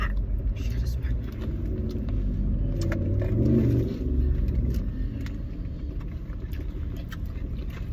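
Steady engine drone and road rumble inside a moving car, with a brief swell as it accelerates; people talk over the cabin noise.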